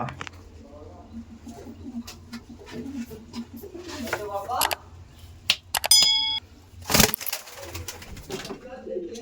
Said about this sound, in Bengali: ভীষণ ভীষণ অ্যাগ্রেসিভ পায়রা